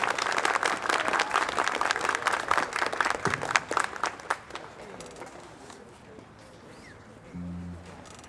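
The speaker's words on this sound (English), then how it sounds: "Let's give one more round of applause for alto saxophone solo by Danielle" Applause from a school concert audience after an alto saxophone solo in a middle school band's winter concert, a dense burst of clapping with a few cheers that fades out after about four seconds.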